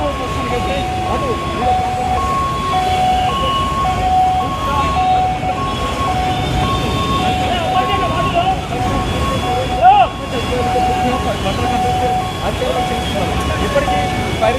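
Fire engine siren at a burning KSR fashion shop in Ameerpet: repeated alternating two-tone wails, moderately distant, running steadily under crowd noise, traffic and people talking.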